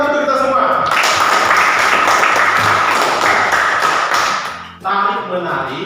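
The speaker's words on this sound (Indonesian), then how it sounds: "Tepuk tangan untuk kita semua." Classroom applause during a ninth-grade physics lesson swells into a dense patter of many hands for about four seconds, then fades as a voice resumes talking.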